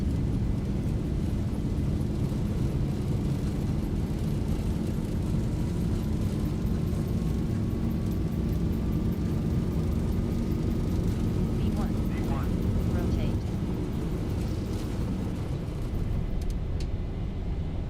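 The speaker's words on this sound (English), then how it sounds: "Takeoff thrust set." An airliner's engines run at takeoff thrust in a Zibo mod flight simulator, during the takeoff roll out of Port Elizabeth: a loud, unbroken, deep roar fills the whole stretch, with a faint rising whine partway through.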